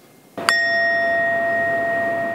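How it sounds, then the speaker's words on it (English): A single bell struck once at a hospital COVID memorial service, a clear metallic ring with a sharp onset that sustains and slowly decays in a quiet room. "Music, a bell ringing, and a moment of silence for the lives lost."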